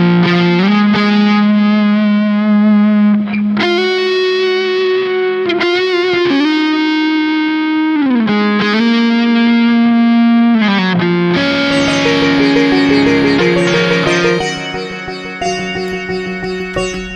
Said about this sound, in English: So if we solo just the guitar and the sitar